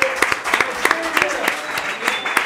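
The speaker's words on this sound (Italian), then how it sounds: "Un applauso" A small studio audience at a Halloween special claps for a guest, sharp separate hand claps from a few people in a rhythmic, close patter, with faint voices and a thin tone beneath.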